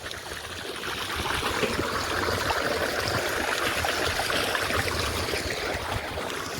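Borewell water gushes into a farm tank with a steady, close, continuous rushing and splashing that neither pauses nor changes, and no voices.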